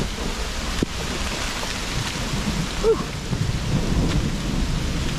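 Heavy rain pours steadily on the Appalachian Trail with thunder rumbling low beneath it, while a person briefly exhales.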